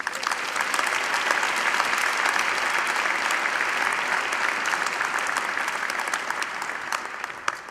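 An audience at a university engineering graduation ceremony applauds the graduates, with dense, sustained clapping from a large crowd that holds a steady level throughout and eases slightly toward the end.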